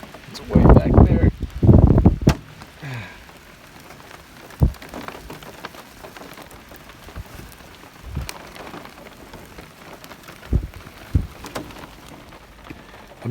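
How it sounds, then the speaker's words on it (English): Rain and hail fall on a van parked in Colorado during a summer storm, with loud pattering bursts at first and then scattered sharp drops and taps on the roof while a person talks. "it looks like we got some rain and hail started up."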